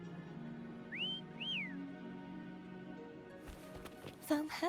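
In a video game, a character whistles to call a creature: two short, clear rising-and-falling whistle notes, followed by hoof-like footsteps and movement sounds.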